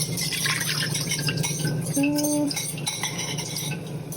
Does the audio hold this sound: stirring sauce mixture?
yes